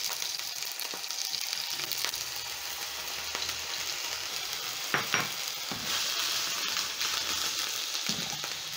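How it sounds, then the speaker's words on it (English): Two diced potatoes fry in cooking oil in a pan with a steady close hiss and sizzle, and a few scrapes and stirring knocks cut through it. Nobody speaks. "I'm going to add the potatoes in my pan."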